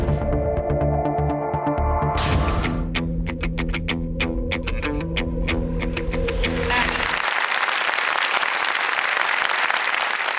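An audience at a Korean talk concert breaks into applause, a broad, dense clapping that swells in as music ends and keeps going steadily.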